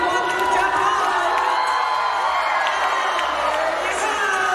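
A large crowd cheers and shouts continuously at a Woofjocks Canine All Stars dog show, with children's shrieks and whoops in a dense, steady roar throughout, urging the dogs on as they jump over stacked cars.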